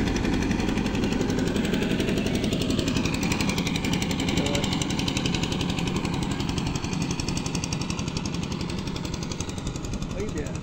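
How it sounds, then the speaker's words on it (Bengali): A river boat's engine hammers loudly and rapidly in a relentless knocking rhythm through the whole crossing, close and dominant, with talking partly buried beneath it. "গাইস আমরা এখন নৌকা বার হচ্ছি।"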